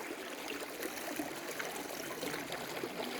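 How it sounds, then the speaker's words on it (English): A small creek at Buffalo Creek, Vermont, flows in a steady, close, bright rush and trickle of water over rocks, continuous and alone. "the creek is getting smaller, looks like,"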